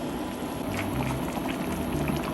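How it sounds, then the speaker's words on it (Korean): A pot of dried pollack soup with radish, tofu and red chili bubbles on the stove, a steady close simmer with soft popping bursts. "무가 좀 푹 익을 동안 좀 더 끓이겠습니다"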